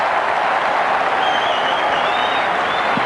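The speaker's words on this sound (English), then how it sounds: "You could hear the crowd on the other side of the field" A stadium crowd at the 1995 Bledisloe Cup rugby match between Australia and New Zealand roars in a continuous, dense wash of cheering, steady and loud, with a faint thin whistle-like tone drifting above.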